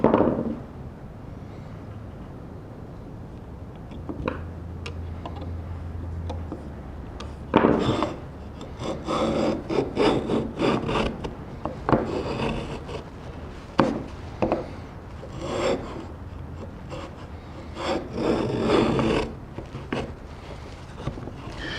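A Bench Dog open-faced router plane shaves a wood workpiece in a run of short, scraping strokes, some louder bursts standing out over a low steady hum, with no talk.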